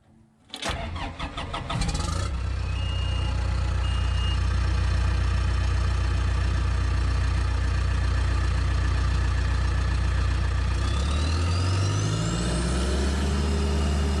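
John Deere 450J crawler dozer diesel engine cranking with a quick rattling whir, catching and settling into a loud steady idle, then revving as the pitch climbs slowly near the end, with no talking.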